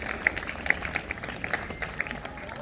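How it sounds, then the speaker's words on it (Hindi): A school Republic Day crowd in Hassanpur applauds a student, a diffuse patter of many hands with a few sharper individual claps standing out, with a voice speaking over it. "जोरदार तालियां।"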